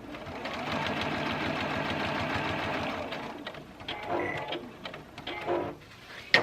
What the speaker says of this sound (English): I'm sewing right back onto my top stitching that I did earlier